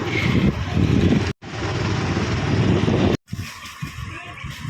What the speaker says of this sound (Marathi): चारवी मला असं वाटतं ऐंशी टक्के परफेक्ट चालवते गाडी